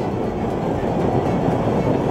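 A Chicago L elevated train runs on its trestle with a steady broadband rumble and faint wheel clatter, loud and continuous throughout, with no voices.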